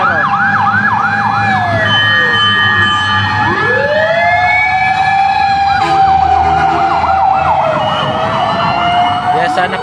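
Several fire truck sirens wail loudly and continuously as fire engines arrive at a house fire in a residential compound in Las Piñas City, their rising and falling tones overlapping near and far.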